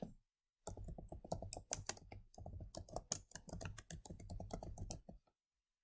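Rapid keystrokes on a computer keyboard as a search term is typed, steady clicking in close bursts after a brief silent start, then stopping, with no voices.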